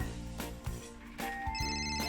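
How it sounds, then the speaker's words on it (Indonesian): A telephone rings at home in a series of bright, repeated electronic trills with short gaps between bursts, fairly quiet and close, with no talking. "Ada telepon."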